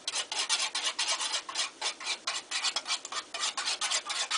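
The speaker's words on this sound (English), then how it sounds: "Stir that in there." A spoon stirs a cayenne salve mixture with quick, rhythmic rasping scrapes against the container, about three to four strokes a second, close and fairly soft, with no talking.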